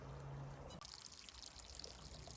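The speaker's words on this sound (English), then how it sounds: "You notice that sound a little bit stronger from the creek." Creek water trickling over rocks in a Colorado forest, a soft, faint, continuous babbling flow with a slight shift in tone partway through.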